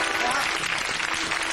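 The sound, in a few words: audience applause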